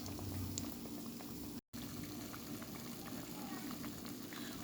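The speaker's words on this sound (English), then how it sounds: "So the bake frying right now." Fried bake dough frying in a pan, a steady bubbling sizzle that runs close and even, with one brief dropout partway through.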